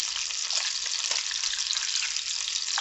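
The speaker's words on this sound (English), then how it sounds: "I'm going to break the eggs right in here" Eggs frying in a pan with chopped onion, a steady bright hiss and crackle of sizzling oil that holds at an even level throughout, with no talking.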